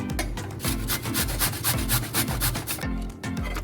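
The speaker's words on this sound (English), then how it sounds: "So while the beans is cooking, so I will be grating the carrots." Carrots scrape rhythmically against a hand grater in steady back-and-forth strokes, close and fairly loud, with a brief pause near the end.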